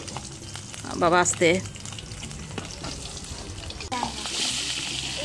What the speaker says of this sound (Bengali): এখন মাছ ভাজি করছে।